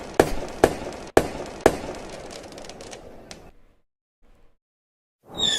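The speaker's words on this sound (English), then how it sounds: "forgot I had the fireworks." A fireworks sound effect plays during a live football match-view show: four loud, sharp bangs come in quick succession over a fizzing crackle that trails off into silence, followed by a new burst of noise at the very end.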